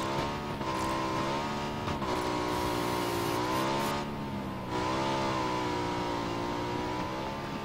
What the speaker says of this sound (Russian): Мотоцикл.